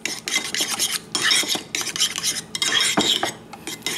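Mayonnaise and salmon being stirred together in a bowl with a utensil, giving repeated scraping, clinking strokes against the bowl at close range, steady and fairly loud with brief pauses.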